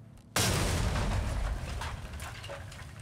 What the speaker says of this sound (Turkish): atıyorum ben bombayı